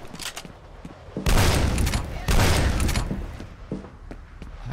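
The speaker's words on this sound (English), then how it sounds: "Repeating cannon, huh?" Repeating cannon fire in the first-person shooter F.E.A.R. sounds as two heavy, booming bursts, each followed by rumbling debris, with smaller impacts and clatter in between.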